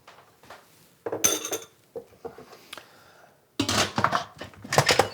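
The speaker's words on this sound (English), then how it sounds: "give it a stir." Shrimp and rice with a little butter get stirred inside a rice cooker pot, making clinks and metal scrapes in two close, lively bursts separated by a quieter stretch.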